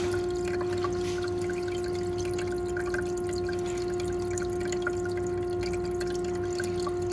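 An Igloo ICEB26HNAQ countertop ice machine cycles water with bleach during self-cleaning, a quiet steady hum with a constant tone under faint trickling and dripping ticks, close by and with no voices.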